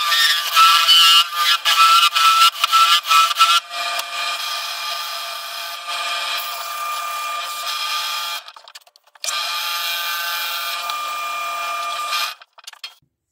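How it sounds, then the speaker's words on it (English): A wood lathe turns a hollow Easter egg form, giving a close, harsh scraping whir that stops briefly and then resumes. "Now let's turn the outside into an egg shape."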